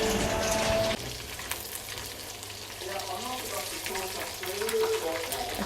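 Pieces frying in hot oil in a pan at home, a dense crackling sizzle that drops at the start and then runs on steadily, with soft voices and clatter around it.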